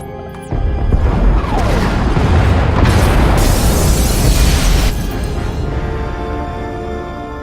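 Pod bays blowing up aboard a ship in SWTOR, a loud booming explosion that erupts suddenly, roars for several seconds and then fades into rumbling.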